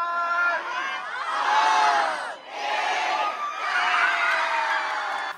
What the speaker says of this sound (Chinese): 现场同学超嗨，不断欢呼